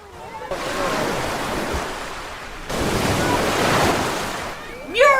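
Sea waves of a fast, strong incoming tide off Skerries: a broad, steady wash of surf with wind rumble that swells twice, ending with a brief high squeal.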